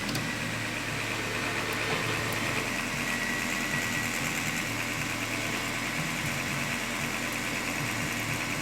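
Chrysler Sebring engine running roughly with air in the lines, a steady close idle with an uneven, popping undertone throughout and no talk.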